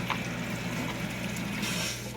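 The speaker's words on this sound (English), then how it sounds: "Small trickle of water." A small trickle of tap water runs over a part from a Fluval 306 aquarium canister filter during cleaning, producing a faint, steady running-water hiss with a low hum beneath it.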